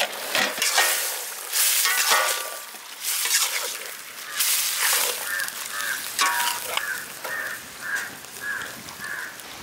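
Goat blood and boiled intestine stir-fry frying and being stirred in a pan, a steady close sizzle with repeated scraping strokes of the stirring spoon, no talking.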